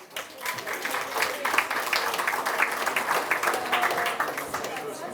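An audience claps steadily for several seconds, a dense, even patter of applause in a room.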